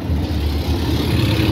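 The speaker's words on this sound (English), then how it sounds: "He's sitting right there, revving his motor." A Ram pickup truck's engine rumbles at a demolition derby, a continuous low, throaty drone with slight pulsing swells close by, and no talk.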